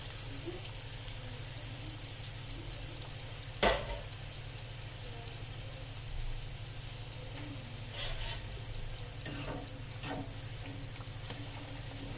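Gyoza dumplings fry in oil in a pan, giving a steady soft sizzle with faint crackles and one sharp clatter, close and fairly quiet with no talk.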